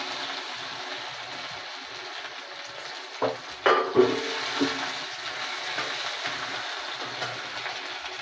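Grated ginger frying in a pan of hot oil for khichuri, a steady close sizzle with a few stirring clatters and scrapes partway through and no voices.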